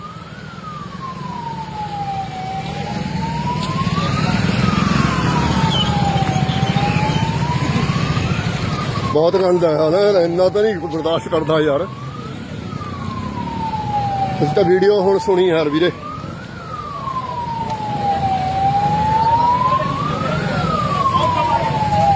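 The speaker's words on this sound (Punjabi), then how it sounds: "ਐਂਬੂਲੈਂਸ ਨੂੰ ਰਸਤਾ ਦਿੱਤਾ ਜਾ ਰਿਹਾ ਹੈ" An ambulance siren wails in slow rising and falling sweeps, loud and steady over road and engine noise, while people talk briefly nearby.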